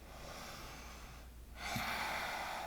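Deep, slow yoga breaths held in lizard pose, with steady airy breathing and a sharper, louder inhale near the end over a constant background hiss.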